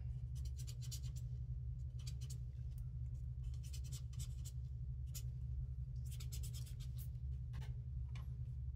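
Ink being blended on paper in small circular strokes for a stippled rose sympathy card, soft repeated scratchy rubbing in short bursts over a low steady rumble in the room.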